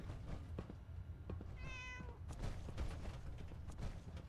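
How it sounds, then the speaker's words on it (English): A cat meows once, short and faint, in the video game Fallout 4, over a low background of game ambience and small mechanical thunks. "Oh, a cat."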